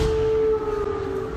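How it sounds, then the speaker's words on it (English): Emergency air raid sirens wail over Kyiv, a sustained steady tone droning continuously and loud, alone without speech. "as emergency air raid sirens wailed."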